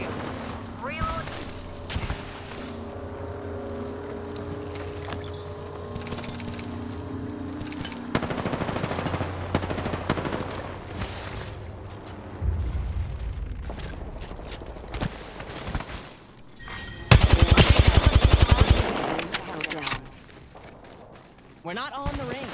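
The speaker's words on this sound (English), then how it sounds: "They're shooting at me. They spotted me. I'm taking shots." Bursts of automatic gunfire and loud impacts from the shooter game Apex Legends, with a firefight close at hand, heavy volleys near the end and game voice lines and effects mixed in.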